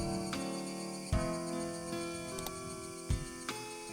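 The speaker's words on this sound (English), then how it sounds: "I mean, cicadas do be wildly like that." Looped insect chorus from the Higurashi visual novel's cicada ambience, a dense steady buzzing drone with layered tones and a few soft ticks and clicks on top, no voices.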